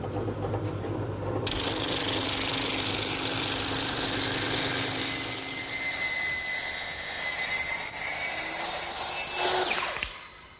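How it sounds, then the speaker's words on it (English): A drum sander chucked in a drill press grinds against curved wood for a stool seat cleat, starting with a motor whir, then a loud, steady abrasive hiss that swells slightly midway before spinning down. "I'm simply going to use my drum sander,"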